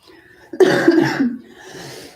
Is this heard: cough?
yes